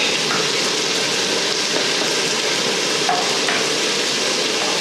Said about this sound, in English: Just stir it in so it can all fry together